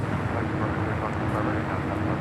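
Broadband roar of a KLM 787-9 Dreamliner arriving from Amsterdam, steady and fairly loud throughout, with a hint of radio chatter underneath.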